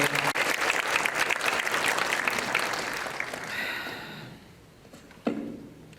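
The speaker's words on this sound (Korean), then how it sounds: "우리 박수로 환영하겠습니다." Steady applause from a church congregation fills most of the clip, then fades out, followed by a short sharp sound near the end.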